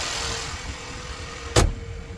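A 2022 Ford Maverick with the 2-liter EcoBoost engine runs at a steady idle hum, close by, with one sharp thump partway through.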